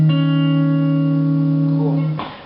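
Acoustic guitar fingerpicked in a worship song progression, one sustained plucked chord ringing steadily and close, then fading out with a brief handling noise at the end.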